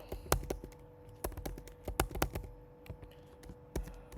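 Typing a name on a computer keyboard: a quick run of irregular key clicks and taps at close range, some louder strokes standing out, with a faint steady hum behind and no talking.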